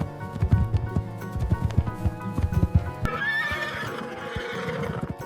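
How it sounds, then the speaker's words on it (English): A horse on a farm clip-clops with quick, close hoofbeats, then lets out a long, loud neigh that ends the clip. "This is a horse."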